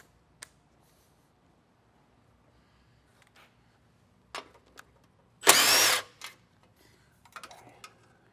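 A power tool briefly spins off one of the 12 mm bolts holding a transmission heat shield on a Subaru STI, a single loud burst of about half a second amid a quiet garage with scattered small clicks and knocks.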